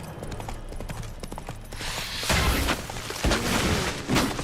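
Horse hooves clip-clop in The Witcher 3 video game as the horse moves, a steady run of close, fairly loud hoof strikes that builds into a denser, heavier rush of game sound halfway through.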